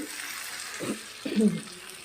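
Stuffed brinjal curry simmers in a pan with a soft continuous sizzle, and two brief bubbling stirs rise slightly above the steady hiss.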